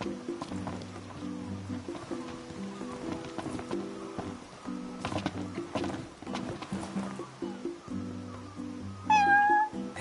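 A cat in the video game Final Fantasy XV meows, a short, clear, close call near the end over a steady in-game ambience of low tones and soft background sound.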